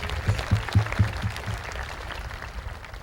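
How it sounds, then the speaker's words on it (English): Audience clapping at the Melrose High School Class of 2015 graduation after the valedictorian's speech, a few strong low thumps up front over a softer spread of claps that gradually thin out. "You can clap."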